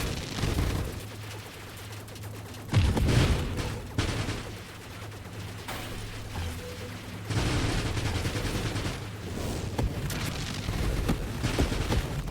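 Rapid weapon fire in the space shooter Nova Drift during a boss fight against the champion constructor: dense, continuous volleys of projectile shots with heavy booming impacts swelling and dipping throughout, no talk over it.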